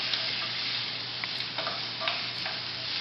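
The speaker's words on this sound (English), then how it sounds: "Go ahead and saute that for just a minute or so." Food sautéing in a pan, a steady soft sizzle with occasional light clicks of stirring, close and fairly quiet.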